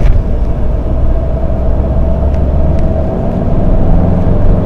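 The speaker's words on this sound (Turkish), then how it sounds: "120 km'den sonra maalesef motor sesi, rüzgar sesi, bazen lastik sesi de alıyor arkadaşlar" Steady engine drone and wind roar fill the cabin of a 2012 Fiat Linea cruising at highway speed, a loud continuous low rumble with faint tyre noise and no talking.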